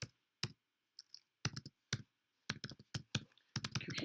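Sharp, close computer mouse clicks in quick isolated bursts, some doubled, separated by near silence, with no speech.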